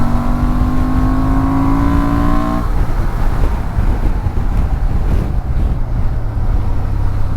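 A 2024 Honda Transalp 750 motorcycle engine accelerating lightly on the road, a rising engine whine that cuts off midway into rushing wind noise and low rumble, loud and close.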